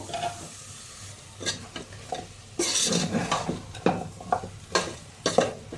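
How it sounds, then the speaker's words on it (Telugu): Taro pieces stir-fried in masala in a pan, with a continuous sizzle broken by repeated scraping and clattering strokes of a spatula, close and fairly quiet. "ఇప్పుడు ఈ చామగడ్డల్ని మనము ఈ మసాలాలో వేసుకొని కొద్దిగా ఫ్రై చేసుకుందాము"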